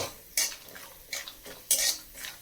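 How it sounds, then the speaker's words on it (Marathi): Peanuts roasting in oil in a pan, heard as a few distinct scraping stirs of a spoon against the pan over a faint, quiet sizzle, with no talk. "मी चांगलं व्यवस्थित शेंगदाणे तेलात भाजून घेणार आहे"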